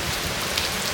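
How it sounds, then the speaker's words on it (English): Storm-season rain in the Seychelles falls steadily, a dense close hiss of drops on surfaces with no breaks and no voices. "it rained yesterday and it's raining today"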